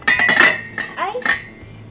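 A utensil pressing and scraping cooking meat flat in a pan, a few short metallic scrapes and clinks in quick succession, close and fairly loud.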